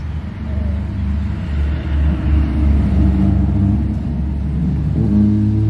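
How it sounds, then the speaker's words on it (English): Construction trucks driving past a front garden bed, a loud continuous low engine rumble that swells and holds steady as the heavy vehicles roll by nearby. "Don't you love construction trucks?"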